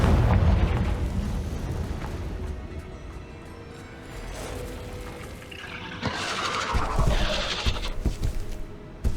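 A Confringo blasting spell erupts in Hogwarts Legacy, a loud rumbling burst with a crackling, fiery tail, followed by further booming impacts and swelling hiss as the magical explosion plays out over a continuous game soundscape.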